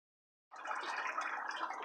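Water pours out of an unplugged DIY pond filter, a steady splashing gurgle that starts abruptly after a brief silence and continues at an even, fairly quiet level up close.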